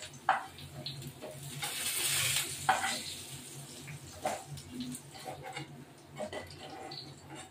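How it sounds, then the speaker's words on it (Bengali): Pointed gourd and potatoes frying in oil in a pan, a soft continuous sizzle with occasional spatula scrapes and taps, close but quiet. "পটল আলুগুলো ভাজা হয়ে গেল, এবার এগুলো তুলবো।"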